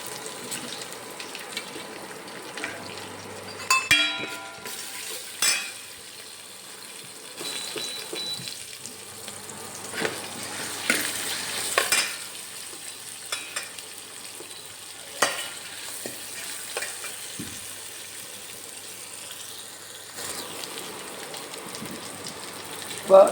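Ginger and onion sauté in a pan for poha upma, giving a soft continuous sizzle with sporadic stirring clinks and scrapes, and a faint voice in places.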